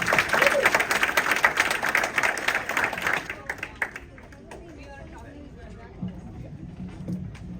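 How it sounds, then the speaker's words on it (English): A hall audience at a Hindu heritage overnight family camp claps loudly for about three seconds, then the applause cuts off into quieter room murmur and scattered noises. "Please give them a round of applause."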